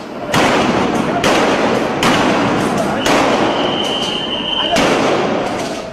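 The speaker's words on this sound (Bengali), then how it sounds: "জবাবে আসে গুলি আর সাউন্ড গ্রেনেড।" Police gunfire and sound grenades during a night clash with Hefazat protesters at Shapla Chattar, Dhaka, on 5 May, give about five loud sharp blasts at irregular intervals over a continuous din.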